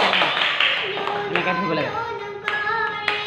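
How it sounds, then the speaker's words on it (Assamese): A group of people clapping their hands at an Assamese gathering, a few scattered sharp claps heard under a person talking who dominates the sound. "তোমালোকে হাত চাপৰি দিয়া এনেকৈ নহয়"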